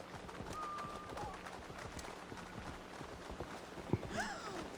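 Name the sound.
horse hooves from a video game mount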